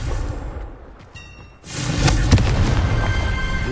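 A Confringo blasting spell in Hogwarts Legacy fires with a brief whoosh, then bursts into a loud, booming explosion with crackling debris that rumbles on for a couple of seconds.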